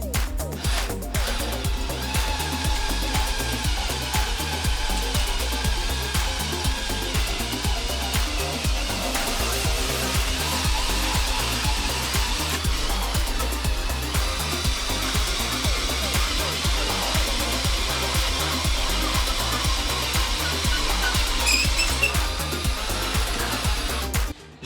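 A Metabo drill drives a long bit through pergola framing timber. It holds a steady, loud grinding whir for over twenty seconds with a faint rhythmic knocking underneath.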